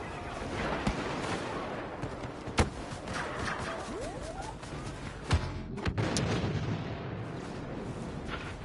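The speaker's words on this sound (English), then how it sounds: "It's a blaster cannon on the hill there." A blaster cannon on a hill in a Star Wars video game fires several sharp booming shots over a dense rumble of battle noise, with one soft sweeping tone in between.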